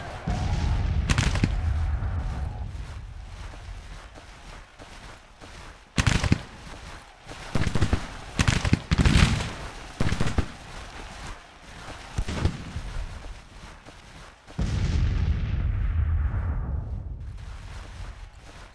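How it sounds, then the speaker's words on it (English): Cannon fire in a video game: a series of heavy booming blasts and thuds at irregular intervals, some clustered in quick succession, over a rumbling background. "Maybe it's the cannons over here that I can't stop"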